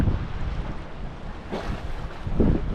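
Strong wind gusts buffet an exposed microphone on Eden Wharf during a windy afternoon of fishing, a loud low rumble that surges at moments, with water lapping faintly beneath.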